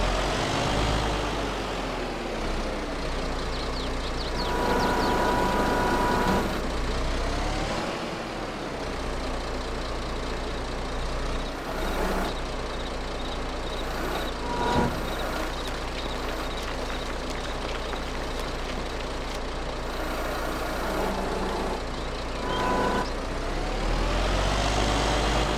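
Truck engine running in the video game Farming Simulator 22 on an old Polish farm, a loud, continuous low rumble with repeated swells in revs, heard alone.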